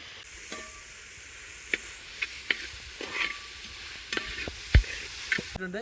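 Finely chopped capsicum and corn stir-fry in a pan, giving a gentle, steady sizzle punctuated by intermittent knocks and scrapes of a spatula, growing slightly busier toward the end.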